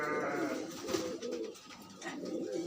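Pigeons of a tumbling breed cooing in soft, low, rolling calls that come in close, murmuring bursts with brief pauses between them.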